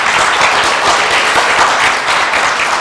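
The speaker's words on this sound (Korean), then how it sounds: "그럼 지금부터 제 188회 세종로 국정포럼을 큰 박수로 시작을 하겠습니다." Loud, sustained applause from an audience opening the 188th Sejongno national affairs forum, a dense steady clatter of many hands that holds evenly for about three seconds.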